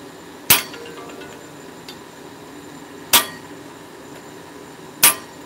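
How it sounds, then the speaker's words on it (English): Hammer striking an annealed hammer on a forge bench, three sharp, ringing metallic hits spaced a few seconds apart, close and loud against a quiet background. "I'm not hitting a hardened hammer with another hardened hammer."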